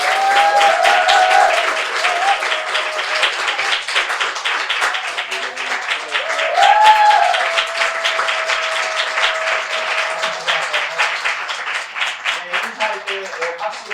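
A church congregation at a Sunday worship service breaks into sustained applause, a dense crowd clapping throughout while a voice speaks over the noise.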